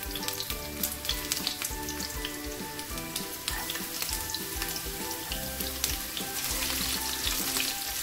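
Onion and garlic fry in a pot of hot oil, a dense, steady sizzle with crackling pops and occasional stirring, close and continuous without talk.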